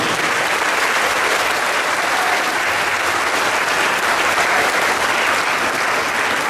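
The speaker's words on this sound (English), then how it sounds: "Can I request all of you, please give a huge round of applause to all my coaches" Sustained, dense applause from a large audience at a sports academy concluding ceremony honouring the coaches, loud and steady throughout with no break and no voices over it.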